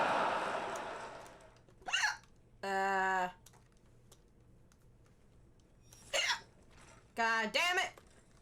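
Several short, voiced hiccups, sudden jolting bursts spaced seconds apart, from a person playing a video game, with faint game sounds in the quiet gaps.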